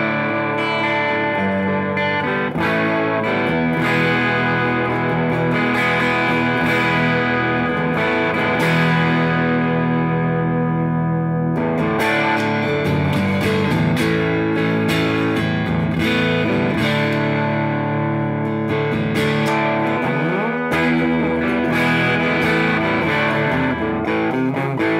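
Electric guitar played through a flat effects unit with onboard gain and tone set to zero, giving a loud, sustained chordal passage with a mildly driven, boutique-amp character, dense and continuous throughout with no talking.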